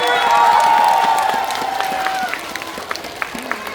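A concert audience at a singer's performance during a housewives' volleyball event in Gumi cheers and applauds. The burst starts loud and then fades to scattered claps, with a voice rising over it early on.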